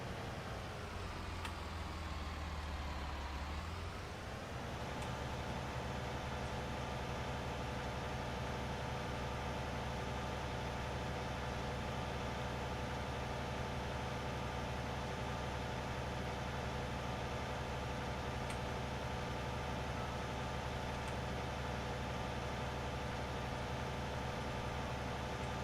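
A tractor engine in Farming Simulator 19 settles after a brief rev into a long steady idling drone that stays constant and moderately loud, with no talk.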